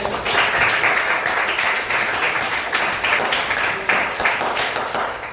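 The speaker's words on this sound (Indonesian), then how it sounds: "Tepuk tangan semuanya." Group applause in a classroom during an Islamic religious education teaching assessment, a loud sustained patter of many hands clapping for several seconds with no talk.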